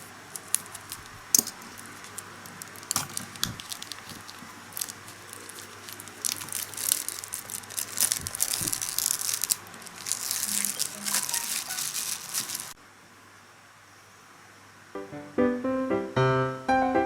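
A Redmi phone box in midnight black is unpacked up close, with crinkling plastic, rustling paper and scattered taps and clicks, then a short quiet pause before a bright melodic phone chime plays.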